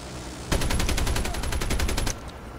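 Turret gunfire in the Call of Duty Mobile shooter, a loud close burst of rapid automatic shots in an even stuttering rhythm lasting about a second and a half, then cutting off.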